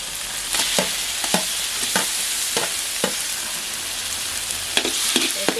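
Crushed small onions and crushed tomatoes fry in a pan, giving a steady close sizzle broken by repeated scrapes and stirs of a spoon, with no talking.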